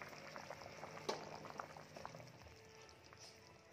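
Malvani-style chicken curry bubbling in a pot, faint gurgling boil with small pops and bursts close by, quiet and without talk.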